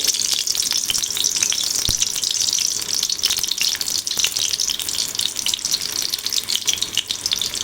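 Garlic dropped into hot tempering oil for a dried shrimp and potato curry fries with a dense, steady sizzle close by, with scattered sharper crackles and one brief knock, and no voices.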